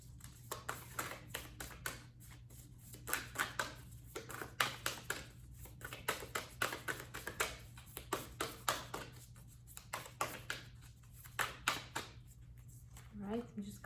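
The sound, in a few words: shuffling a deck of oracle cards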